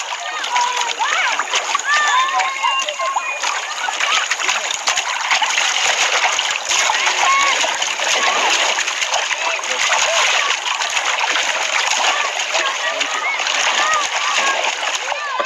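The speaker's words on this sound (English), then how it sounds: "The elephants' daily bathe in the river was the only sign of continuity." Wild elephants splash and bathe in a river, a dense, continuous wash of near splashing and churning water with birds calling faintly in the background.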